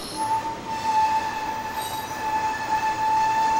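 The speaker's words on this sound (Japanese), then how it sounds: "この列車はキハ41というんですが" A KiHa 41 diesel railcar moves through Ikuno station in Japan. A steady, high-pitched wheel squeal rings over a low rumble of the train, close and continuous for several seconds.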